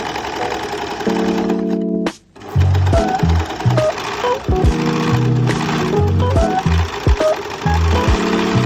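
A sewing machine runs in loud bursts of rapid mechanical stitching with brief pauses, lock stitching at a curve in a kimono sleeve dress, heard close and alone.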